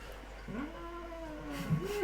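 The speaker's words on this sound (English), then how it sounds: "Is there a cat at the table?" A real cat meows at a tabletop gaming session, giving a drawn-out, wavering yowl followed by a shorter rising mew, close and fairly clear over a quiet room.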